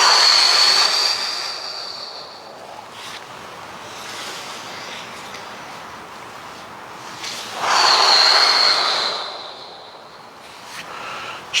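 A long, breathy exhale during a stretching exercise, close and airy, rising twice in broad rushes of breath with a softer stretch between them, alone without talk.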